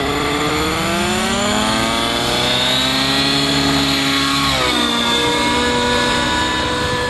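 A nitro RC helicopter engine screams loud and close during a climb out, its high whine sweeping up and down in pitch with the blade load, continuous and without talk.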